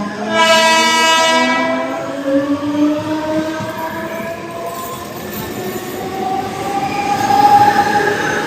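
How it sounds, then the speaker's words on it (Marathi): A train passes close by on a railway line, opening with a loud horn blast and then a steady rumble of wagons and wheels with some squeal, swelling again near the end, no voices. "आता ट्रेन चालली ही."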